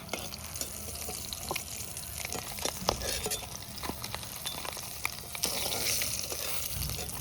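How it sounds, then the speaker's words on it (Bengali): Potato pieces fry in oil left from frying fresh river boal fish for a village meal, giving a steady close crackling sizzle with scattered sharp pops throughout and no talking. "মাছের তেলে আলুগুলো ভেজে নেব।"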